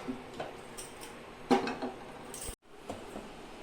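A metal wok is set down on a kitchen stove ready to fry soybean chunks, giving a few light clanks and knocks with one sharper clatter midway, close and otherwise quiet.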